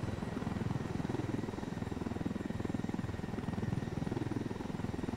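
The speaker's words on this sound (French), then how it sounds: "Mon hélicoptère est tellement grand." A large helicopter flying in the video game Ghost Recon Wildlands, its rotor producing a steady low, rhythmic chopping thrum that continues without a break, moderately loud and with no talk over it.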